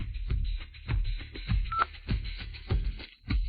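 A telephone keypad is dialed, giving a quick run of short, soft, evenly spaced beeps.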